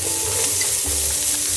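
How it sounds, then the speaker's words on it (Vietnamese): Minced lemongrass hisses and crackles as it fries in hot cooking oil for a vegetarian mushroom hotpot, a loud, close, continuous sizzle with stirring scrapes underneath. "Chờ dầu nóng thì các bạn sẽ cho sả băm vào"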